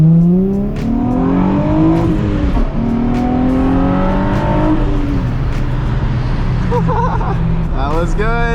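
Several cars accelerating hard side by side in a three-way street race at a car meet, engine tones climbing together in loud rising sweeps, with crowd chatter and shouting around them.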